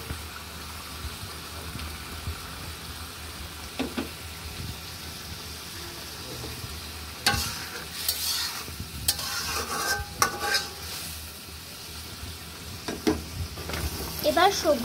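Tomatoes dropped into a pan of sizzling spices while cooking pangas fish with vegetables, steady frying hiss with intermittent scrapes and clinks of a spoon stirring, louder bursts of sizzle toward the end.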